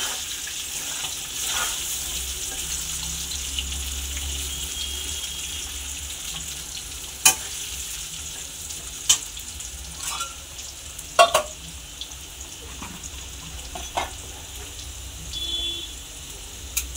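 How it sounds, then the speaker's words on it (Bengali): Potatoes frying in a pan, a steady broadband sizzle running throughout with a few sharp clicks and utensil taps, close and moderately loud, with no talking. "তো বন্ধুরা দেখতে পাচ্ছেন এখন আমাদের আলুটা ভাজা হচ্ছে"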